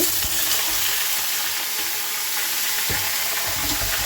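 Loud, continuous sizzling of papaya and potato frying in hot oil, with occasional clinks of a utensil stirring in the pan.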